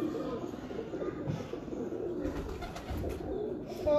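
Breeder pigeons coo softly and repeatedly, with faint chirps and light rustling in the background and no talking.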